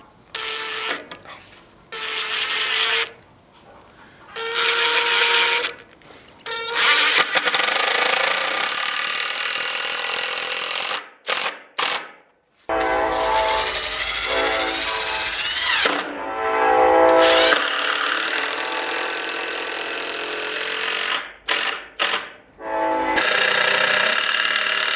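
A power drill drives screws through a board into a railroad-tie workbench in repeated loud whirring bursts of several seconds each, separated by brief pauses and near-silent gaps.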